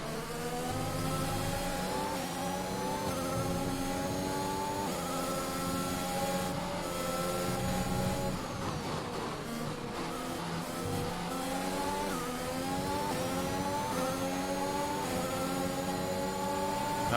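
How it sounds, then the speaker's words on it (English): Honda-powered Formula 1 car engine in the racing game F1 2021, a continuous high-pitched whine rising and falling through gear shifts and revs for the whole stretch, steady and loud with no talk. "That Honda engine is impressive."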